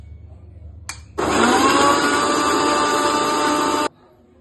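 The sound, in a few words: mixer grinder crushing bottle gourd juice ingredients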